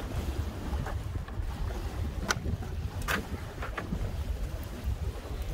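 Wind blowing outdoors, a steady loud rumble and buffeting across the microphone with occasional gusts, and no one speaking.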